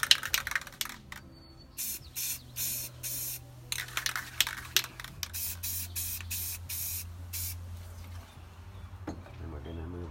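Bursts of spray paint hiss one after another as a dark purple color is sprayed into water to hydro dip a PS4 controller, with short pauses between the sprays and the sound of a can rattling.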